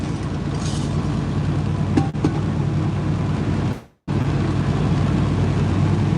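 A truck cruising on a California highway, a steady low road and engine drone with tire rumble heard from inside the cab, briefly cutting out near the middle before resuming.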